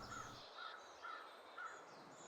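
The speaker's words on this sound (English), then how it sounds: "Listen for the crows." Crows caw in the snowy wilderness of the survival game The Long Dark, four evenly spaced calls ringing out faintly over a soft, steady wind.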